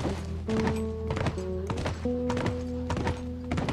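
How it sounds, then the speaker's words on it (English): Horse hooves clip-clopping in The Last of Us, a steady run of hoofbeats over a musical game soundtrack with brief voices. "Whoa, it's weird riding a horse."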